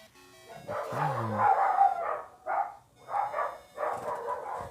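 In the Pokémon Gold game, a dog-like Pokémon cry plays as a short chiptune-style electronic yelp followed by several rising and falling bursts, moderately loud and with no talking.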